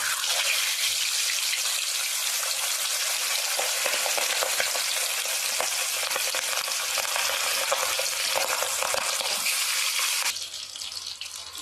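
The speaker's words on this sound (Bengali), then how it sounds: "ভাজার সময় কম তেলেই ভাজতে হয়" Pieces of boal catfish fry in a small amount of oil, giving a loud, steady broadband sizzle with crackling pops that runs for about ten seconds before dropping slightly in level near the end, with no talking.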